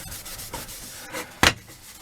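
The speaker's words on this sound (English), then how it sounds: "the grey Scotch-Brite shifts the tarnish" A grey Scotch-Brite pad scrubs tarnished Anniversary clock brass in short, close rubbing strokes, with one louder abrasive scrape near the end.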